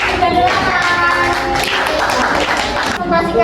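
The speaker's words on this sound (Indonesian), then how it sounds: "kita beri tepuk tangan untuk kelompok 7 dan 8" A class of junior high school students claps for presenting student groups, dense continuous applause from many hands filling the room, with voices mixed in.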